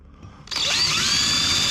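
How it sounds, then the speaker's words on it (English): A power drill bores a ferrule hole in the door of a FFR MkIV Roadster, starting abruptly halfway in with a loud, steady whine close by. "I'm going to set the bit into the hole, but not against where I need to cut"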